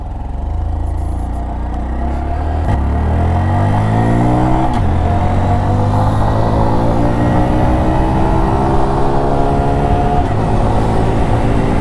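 Engine of a 2019 Honda Monkey motorcycle revving up and shifting through gears, its pitch climbing and dropping at each change, loud and steady close by with wind noise, no talking.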